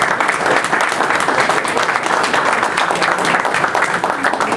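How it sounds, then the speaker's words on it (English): An audience at a community candidates' meeting gives a sustained round of applause, dense, even clapping from many hands filling the room throughout. "a round of applause is more than"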